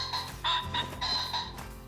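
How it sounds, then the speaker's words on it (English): A pheasant rooster calling in the hunting video game Call of the Wild, a few harsh clucking bursts close by, spaced irregularly over a quiet background. "There we go, guys. Rooster."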